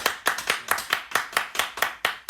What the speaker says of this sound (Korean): 우리 다른 때보다 6배나 크게 박수로 함께 축하하겠습니다